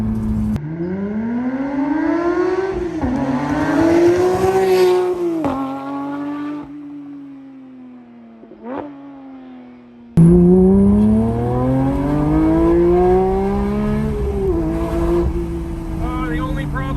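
A Porsche 992 GT3 with a JCR exhaust accelerates hard, its high-revving engine climbing through repeated gear changes to a shrill wail. The sound eases and dips before rising again loud and close, with quick shifts and a piercing tone.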